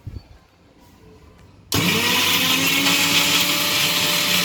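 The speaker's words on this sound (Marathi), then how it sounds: "तर आता आपण हे मिक्सरला लावत आहोत." After a brief quiet moment, a kitchen mixer grinder suddenly starts up, blending a paste with ice and water and keeping up a loud, steady whirring motor roar until the end.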